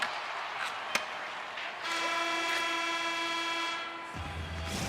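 A steady horn-like end-of-period buzzer blares for about two seconds over crowd noise in an NHL 26 hockey video game, then cuts off abruptly as the arena murmur continues.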